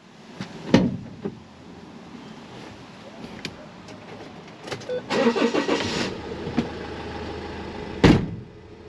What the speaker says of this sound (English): then I guess we need to start the engine